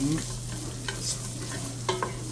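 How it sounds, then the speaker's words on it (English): Chopped onions sweating in a cooking pot for chili, a soft continuous sizzle with a steady low hum beneath and a few faint stirring clicks and scrapes. "this is going to take 2-3 minutes to sweat our onions down"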